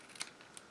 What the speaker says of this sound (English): have my scissors here